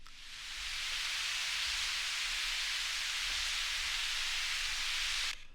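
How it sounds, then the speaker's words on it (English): A steady burst of white noise from a free sample fades in, holds evenly for about five seconds, then cuts off abruptly. It is a bright, hissing, static-like wash. "I made an uplifter from it. Originally it sounded like this."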